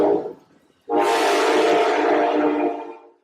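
A train rushes past on tracks in Portland, starting abruptly as a loud, close, broadband roar and holding steady for about two seconds before fading, with a possible horn blended in; no talking.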